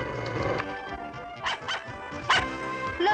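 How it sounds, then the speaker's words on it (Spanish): A hungry puppy in an animated cartoon gives several short yips and whimpering barks in quick succession, heard clearly at moderate volume. "Los cachorros con hambre a veces son así."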